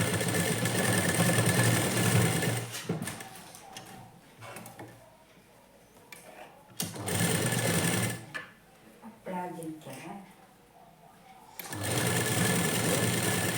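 A sewing machine runs in loud bursts while stitching the hook strip of a lined blouse, its rapid mechanical clatter stopping and restarting with quieter pauses between runs.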